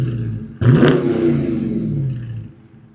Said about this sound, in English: it's just going to give us some revs